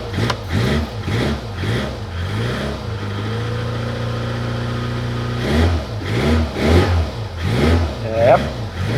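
An Abarth car engine revs repeatedly under throttle blips, rising and falling in pulses, then settling into a steadier hold before more revs; close and loud.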